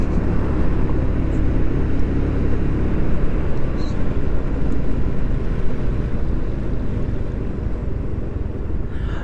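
A ride on a 150cc scooter: a constant loud roar of engine and wind rushing past, steady throughout with no breaks and no talking.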